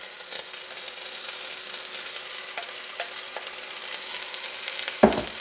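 Ground vegan sausage sizzles as it browns in a pan, with a soft constant hiss, scattered light stirring scrapes and one louder knock near the end.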